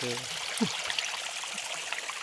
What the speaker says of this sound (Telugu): ఇప్పుడు చూసి నీళ్ళు పట్టుకుంటాను మందు కొట్టుకోవడానికి